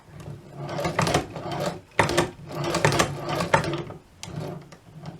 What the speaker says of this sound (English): So when you turn your crank clockwise,